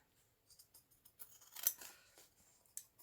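Scissors snipping away the edge of a sewn journal page, a string of quiet close crisp cuts in uneven rhythm, with no talk.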